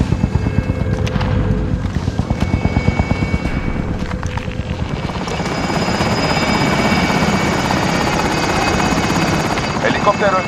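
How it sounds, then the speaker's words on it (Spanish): Helicopter drawing closer in Call of Duty Warzone during a Plunder cash deposit, its rotor chop pulsing steadily and swelling louder as it nears, with a rising engine whine over game background noise. "Helicóptero aproximándose para el depósito."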